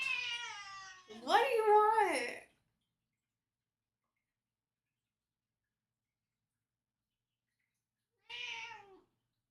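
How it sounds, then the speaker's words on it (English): A house cat meows in short, expressive calls indoors, close and clear, with a brief later call after a long silence; a person speaks to it just before. "My cat."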